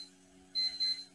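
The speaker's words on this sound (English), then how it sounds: "somebody's alarm clock is going off" Someone's alarm clock goes off during a library author lecture, giving a faint high electronic beeping in two short bursts over a quiet room hum.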